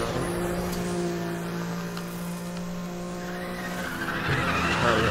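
A race car tears along in the Need for Speed The Run racing game, nitrous engaged: steady loud engine drone with tire squeal and skidding, swelling louder near the end.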